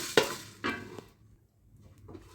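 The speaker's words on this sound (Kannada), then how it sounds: "ಈಗ ಜೀರಿಗೆ ಹುರ್ಕೊಳ್ಳೋಂತ" Cumin seeds dry-roasting in a pan, two brief rattling scrapes as the seeds are stirred, then a faint soft crackle fading into near quiet, with no talking.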